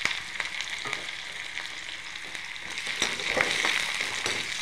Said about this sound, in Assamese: এতিয়া তেলখিনি গৰম হৈ গৈছে এতিয়া ইয়াতে প্ৰথমতে দি দিম পিঁয়াজখিনি